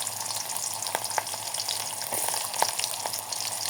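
Onions and green chillies sizzling in hot oil in a pan, a steady loud frying hiss with a few soft clinks of stirring, close up and without voices.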